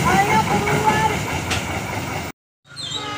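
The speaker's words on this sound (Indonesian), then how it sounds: "Kereta api Batubara masuk jalur 2." A coal freight train rumbles and clatters close by as it arrives at a station, with faint wheel squeals, then the sound cuts out and resumes more quietly.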